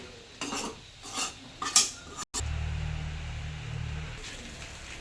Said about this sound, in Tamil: எக்கு ஆட் பண்ணதுக்கப்புறம் எல்லாத்தையும் நல்லா மிக்ஸ் பண்ணுங்கள்.